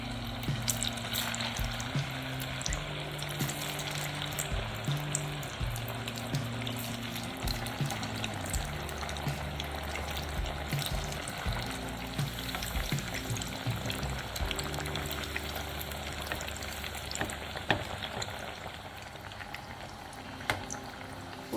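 Potato and cheese finger chips frying in hot oil, a continuous soft sizzle and bubbling hiss with faint clinks and clatter over it, steady throughout.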